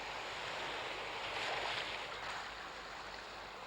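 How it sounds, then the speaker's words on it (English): Broadband roar of North Sea waves and wind at the shore, a steady wash that swells slightly midway then eases, continuous and fairly loud with no voices. "You feel the sea, the wind, the waves."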